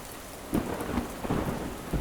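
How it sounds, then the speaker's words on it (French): Low thunder rumbles in short bursts through a rainstorm, with steady rain hissing throughout and no voices. "Des flashs lumineux éclairent les alentours et le grondement tonitruant fait vibrer le sol."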